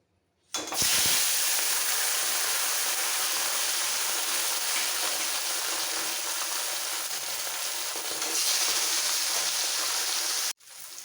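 Salt-and-turmeric-marinated bata fish dropped into very hot mustard oil set off a loud, continuous frying roar that holds for about ten seconds, then cuts off abruptly.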